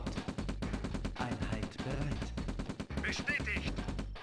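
Rapid bursts of gunfire and explosions from the strategy game Command & Conquer Vergeltungsschlag, loud and continuous, with dense rattling shots over a short stretch.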